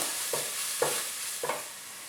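Garlic being stirred quickly in a hot pot of coconut oil, with three short scraping strokes over a steady, soft sizzle; no talking.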